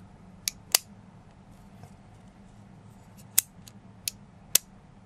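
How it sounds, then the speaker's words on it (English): Sharp plastic clicks from the side mechanism of a Gundam beam rifle ballpoint pen, about five quick clicks spaced irregularly, close up over a quiet room hum. "If you want to retract the pen, you have to click on the side."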